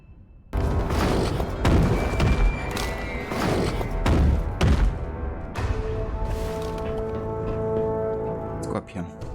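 Explosions going off in the action game Jøtun, a run of loud booming thuds and crashes in the first half followed by a sustained rumbling tone, with the player talking over parts of it.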